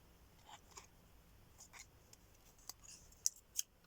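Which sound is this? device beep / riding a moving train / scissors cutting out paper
scissors cutting out paper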